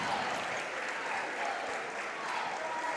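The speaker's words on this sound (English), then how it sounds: "The Somerset faithful applauding the effort." Somerset home fans applaud at the end of a boys high school basketball game, a sustained, moderately loud round of clapping from a gym crowd.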